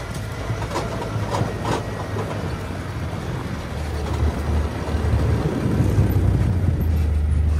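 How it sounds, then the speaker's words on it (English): A car rolls across a front yard, a steady low rumble of tyres and engine with rattling and bumps, growing heavier toward the end, no talk. "Driving through the front yard right now."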